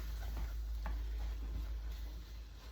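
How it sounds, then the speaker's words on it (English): Kielbasa beef sausage stirred around in a pan, giving soft, faint scraping strokes over a low, steady sizzle, with no talking. "I'm going to dump all of this sausage into here, and I'm just gonna stir it around"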